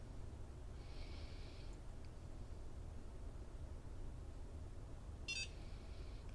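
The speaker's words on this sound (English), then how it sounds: "So I'll wait 3 beeps." Two faint, short electronic beeps from a NuFace microcurrent facial device, one near the start and one toward the end, over a steady low hum and hiss.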